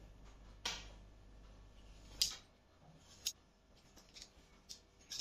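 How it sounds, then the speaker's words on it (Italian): Brioche pastry dough is cut into pieces on a work surface: a handful of quiet, crisp snipping cuts arrive at irregular intervals over a faint, near-silent background. "taglio le mie brioche"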